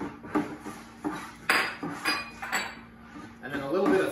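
Utensil clinks and scrapes against a pot while turkey brine with kosher salt, bay leaves and thyme is stirred, several distinct knocks spaced irregularly over soft background noise, close and moderately loud.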